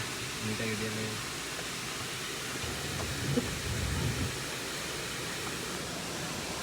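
Heavy rain pours at a secret waterfall, making a dense, steady roar of rushing water that fills the whole scene evenly, with a faint voice briefly audible early on.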